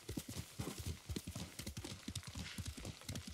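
Horse hooves beat out a quick, even galloping rhythm as a rider crosses terrain in the video game Ghost of Tsushima. The thudding footfalls are close and continuous, with no voices over them.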